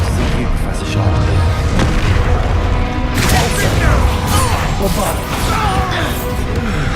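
Explosive bursts from the Confringo fire spell in the Hogwarts Legacy video game, heavy booms and crashes that grow denser after three seconds, over a steady loud battle din with speech mixed in.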